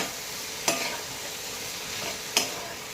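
Bitter gourd and potato stir-fry in a pan with a steady, close sizzle, broken by two quick sharp scrapes of a spatula stirring the vegetables, and no one speaks.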